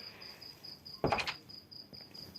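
A wooden door opens in Minecraft with a single short creaking clack that stands out over a steady, rhythmic cricket chirp in the background.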